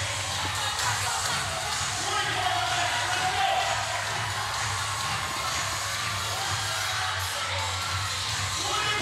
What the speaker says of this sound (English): More noise made by the crowd, getting up on their feet.